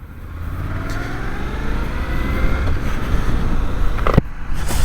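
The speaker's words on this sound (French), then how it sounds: "on se retrouve chez Suzuki pour essayer le 800 DE" Suzuki 800 DE trail motorcycle engine running steadily with a low, continuous drone that swells slightly toward the end, heard close from the riding position with wind noise.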